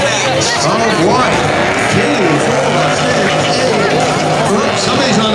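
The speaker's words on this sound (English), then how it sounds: "Oops, somebody's on the rev limiter already." A pickup truck engine at a spectator drag race sits on the rev limiter, a loud, continuous harsh buzzing and warbling roar that stays close and dense throughout, with people talking over it.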